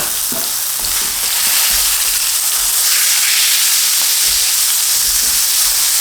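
Beef fillet sears in a hot pan for Beef Wellington, a loud, steady frying sizzle with a broad hiss that runs unbroken the whole time, close up and with no talking.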